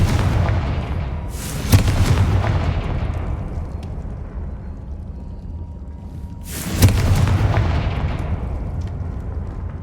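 Two heavy booms from the Confringo blasting spell in Hogwarts Legacy, each a sharp crack swelling into a rumbling explosion that slowly fades, spaced about five seconds apart, loud and close.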